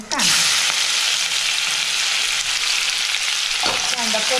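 Onion sautéing in a pan after mustard seeds and cumin, a loud continuous close sizzle with a couple of stirring scrapes and no talk.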